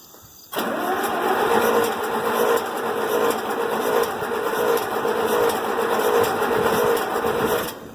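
An IH Farmall 706 tractor engine with a newly replaced carburetor catches after a quiet start and settles into a loud, steady running drone with a fast, even chugging close by.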